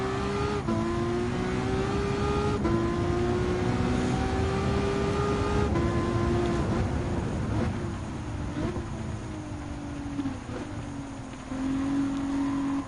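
A hypercar engine revs hard and steadily in Gran Turismo 7. The pitch climbs and drops back through several gear changes, loud and continuous for the whole stretch, with no voices.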